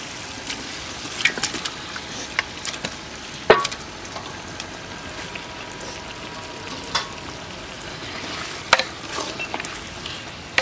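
Mutton pieces sizzle and crackle as they fry in spiced biryani masala in oil, with the steady hiss broken by sharp stirring scrapes and clacks of a spoon against the pot.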